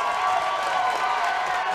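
Basketball crowd in a high school gym cheering and clapping as a player hypes them up, a steady, dense roar of many voices and hands with no break.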